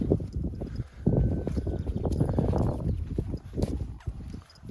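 A three-year-old mare's hooves clop along at a walking pace, close by, mixed with rustling and gusts of wind.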